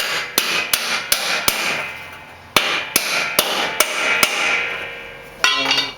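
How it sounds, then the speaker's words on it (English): A socket is hammered to drive a spindle bearing into an MTD mower deck spindle: about a dozen sharp, loud metallic blows at a steady pace with a brief pause midway, close and without talk. "Take our socket and drive that in."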